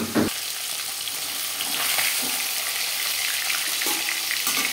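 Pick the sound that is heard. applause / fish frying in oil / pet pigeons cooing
fish frying in oil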